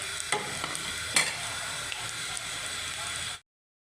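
Chapli kebabs frying in oil in a pan, a steady close sizzle with occasional stirring scrapes, running continuously and then cutting off abruptly.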